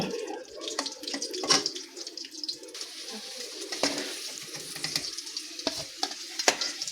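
Potatoes fry in oil with a broad, steady sizzle. Scattered clinks and stirring scrapes rise above it from time to time.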